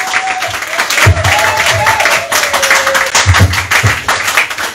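A church congregation claps and shouts for joy, with rhythmic clapping and scattered cheers, loud and close, while a drawn-out tone sings or cries over the crowd.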